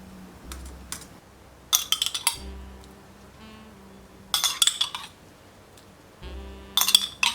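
A metal tablespoon clinks against a cake ring while milk is spooned over a sponge layer, in three quick rattling clusters separated by quiet pauses with a low background hum.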